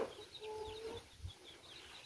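Backyard chickens give a few soft clucks and brief calls at a distance, faint against a quiet outdoor background with light wind.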